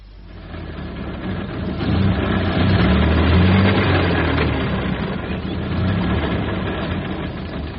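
A car engine runs after a jump start from long battery leads: a steady motor drone that swells as it revs, then eases and holds at a fairly loud, near level, with no talk.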